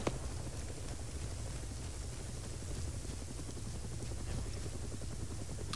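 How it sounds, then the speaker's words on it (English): A helicopter in the video game Arma 3, set on Altis, gives a steady, dense rotor roar and broadband wash that holds evenly the whole time, close and loud with no voices over it. "that heli's gonna murder us"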